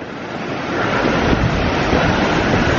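The Rossignolet waterfall in the Mont-Dore massif pours in a loud, constant broadband roar of falling water, steady and close, with no voices over it.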